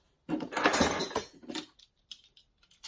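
Small Pottery Barn Kids toy cooking utensils being pulled from their packaging: a cluster of close clattering and clinking knocks, then a few lighter taps and rattles.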